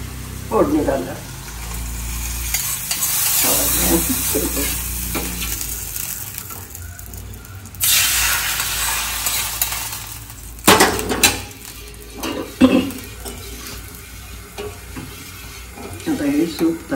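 A tempering of ghee, curry leaves, asafoetida and ginger-garlic-chilli paste sizzles for horse gram soup, with loud bursts of hissing as it hits, stirring and pan clatter, and a voice speaking at intervals.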